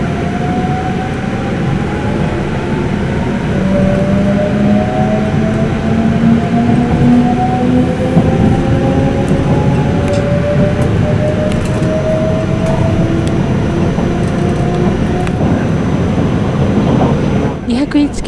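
A Haruka limited express train pulls away from Tennoji station, a steady loud rumble of wheels and motor with rising tonal whine as it gathers speed, continuous throughout.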